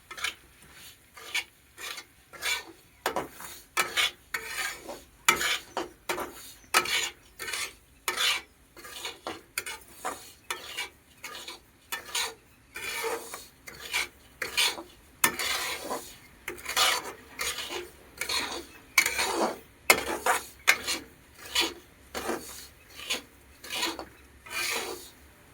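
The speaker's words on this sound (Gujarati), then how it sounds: "આ રીતના આપણો રવો પછી શેકી નાખવાનો ઘીમાં, અને હલાવતું જવાનું" Semolina roasts in hot ghee in a pan for sweet rava shiro while a spoon stirs it continuously, giving close, repeated rhythmic scraping and rasping strokes with a faint sizzle underneath and no talking.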